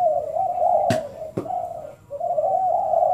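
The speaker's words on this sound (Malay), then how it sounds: "burung semua bunyi." Pet pigeons or doves coo in a steady, continuous drone close by, with two sharp knocks cutting through and a brief pause near the end.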